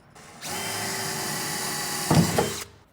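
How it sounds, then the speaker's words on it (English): A power drill bores pilot holes through the metal body of a 2007-or-later Mercedes Sprinter van, a single steady whine of a couple of seconds, rising into a louder bite and bump near the end before stopping. "I'm going to go drill all my pilots"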